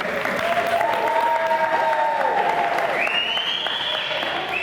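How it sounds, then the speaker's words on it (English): A crowd applauds steadily throughout, dense clapping from many hands filling the room, with a few tonal sounds rising above it. "A round of applause. Round of applause for NSA."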